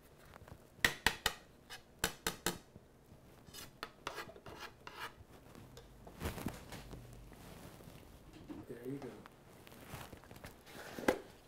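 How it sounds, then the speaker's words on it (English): Fresh garlic cloves rubbed against a grater, a run of sharp, close rasping strokes early on, then slower, softer scraping with a few quiet gaps. "we're gonna grate 3 cloves of some fresh garlic."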